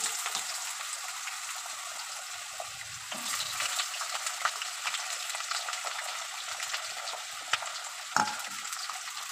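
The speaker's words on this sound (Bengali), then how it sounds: "আলুটা ভাজা হোক।" Potatoes fry in hot oil, a steady bright crackling sizzle heard close and alone, with occasional soft knocks and a louder scrape near the end.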